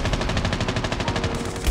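Rapid submachine-gun fire from COD Mobile, a dense, continuous burst of fast shots running loud and close for the whole stretch with no pauses.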